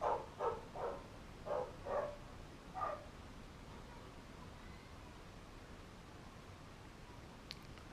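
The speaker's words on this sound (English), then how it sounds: "Is that the doggies?" Several barks from a dog ring out in a quick burst over the first three seconds, fairly near, then give way to quiet background hiss.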